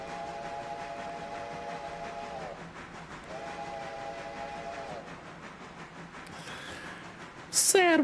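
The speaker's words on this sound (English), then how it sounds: "The sad whistle." A steam locomotive whistle in the railroad game Railroader sounds in two long, steady, mournful blasts over low rumbling train noise, followed by a brief sharper sound at the end.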